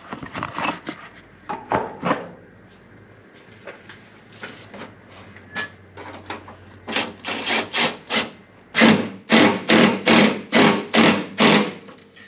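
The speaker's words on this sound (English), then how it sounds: "then I'll tighten down each one of the screws that's in that area to help hold" Screws tightened with a power driver on an aluminum inner fender liner of a 2021 Jeep Gladiator, a string of short buzzing bursts growing denser and louder toward the end, close up.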